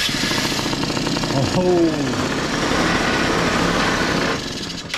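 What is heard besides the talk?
2008 Yamaha Zuma 50 two-stroke scooter engine starting and running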